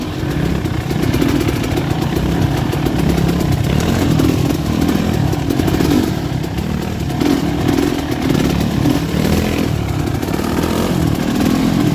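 A motorcycle rolls slowly in first gear on a poker-run ride, its engine a loud, steady, low throbbing drone close by that holds an even pace without clear revving, and no voices stand out.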